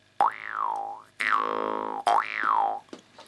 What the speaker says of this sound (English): You can make some amazing different sounds using the jaw harp.